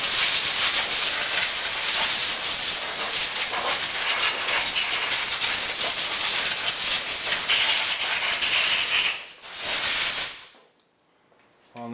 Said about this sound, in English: If you want and you have compressed air, there's an optional step.